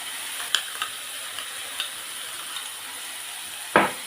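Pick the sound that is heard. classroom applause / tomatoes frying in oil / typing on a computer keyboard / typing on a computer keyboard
tomatoes frying in oil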